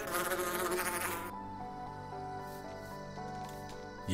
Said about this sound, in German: Huh, Wespe!